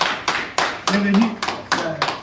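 Applause from a studio crowd in Quebec greeting an arriving guest, clapping fading under spoken welcomes and a voice talking.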